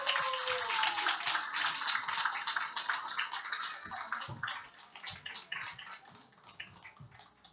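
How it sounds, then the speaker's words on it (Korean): A church congregation at a Sunday evening service claps for a middle-school group, a dense wash of many hands that fades slightly toward the end, with no talk over it. "우리 중등부 친구들 박수 해 주십시오."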